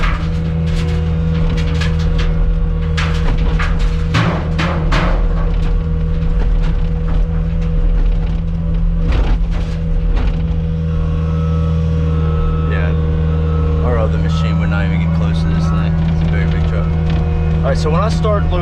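A big excavator loads a very high dump truck, with a heavy engine drone running throughout under a person talking and scattered clanks and thumps from the work.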